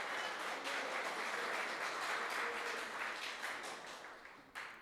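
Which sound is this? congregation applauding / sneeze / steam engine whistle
congregation applauding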